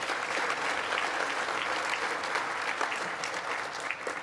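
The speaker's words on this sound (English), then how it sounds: "Please give them a round of applause." An awards gala audience applauds a sponsor with steady, full clapping from a large room, holding at an even level throughout.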